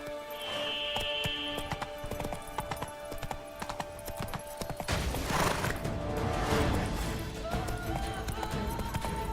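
Roach, the horse in The Witcher 3: Blood and Wine, gallops with rapid rhythmic hoofbeats and a brief whinny, set over game music and ambience.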